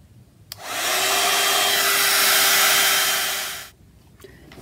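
A hair dryer switches on with a click, blows a loud steady whoosh for about three seconds while drying craft work, then clicks off.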